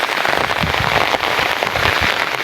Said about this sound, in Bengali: নদীর ভিতরে তাকাবে দেখছেন বৃষ্টি হইতেছে